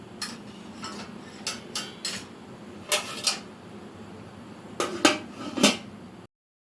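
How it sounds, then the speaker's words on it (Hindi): A metal lid set onto a cooking pot of chicken salan for biryani, giving a series of short, sharp clinks and taps that scrape and settle in clusters, close by and fairly quiet. "और अब मैं इसके ऊपर ढक्कन दे रही हूँ।"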